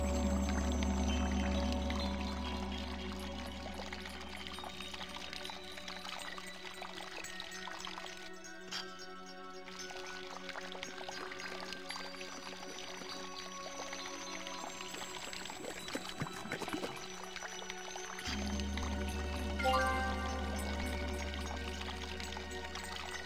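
Water is poured steadily into a container for over twenty seconds, a continuous gurgling trickle with shifting tone, close and fairly loud, with no talk over it.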